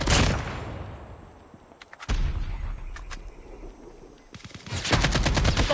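Bursts of close automatic rifle fire in Call of Duty Mobile Team Deathmatch, an AK-47 among the guns, come in clustered volleys with short gaps between them and a heavy sustained stretch at the end.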